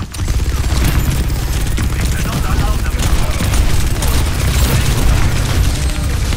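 Overwatch 2 shoot-off with Doomfist and Mauga, heavy rapid gunfire and booming impacts pounding continuously and loudly close up, a dense barrage without any quiet gaps.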